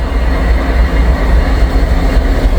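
An SD70MAC diesel locomotive train passing close by, a loud continuous low rumble with rolling wheel noise and no break.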